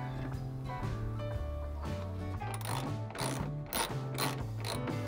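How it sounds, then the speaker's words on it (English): A ratchet working the wheel arch liner screws on a Mazda MX-5 NC, rapid clicking pawl bursts repeating over several seconds, close and clear under a steady background hum. "remove the two wheel arch liner screws."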